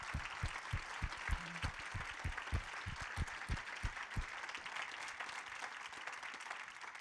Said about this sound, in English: I want to take a moment to applaud both of them.